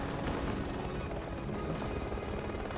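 A helicopter in the video game Resident Evil 6 roars loudly and steadily throughout, a dense, continuous rotor and engine wash filling the whole scene without a break.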